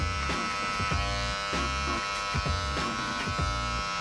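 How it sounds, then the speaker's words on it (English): Electric hair clippers buzz steadily and close up as they work clipper-over-comb with the taper lever open, blending a fade for a twist sponge style haircut, with regular strokes roughly every half second. "we're gonna just clip over comb that shadowy area right in there"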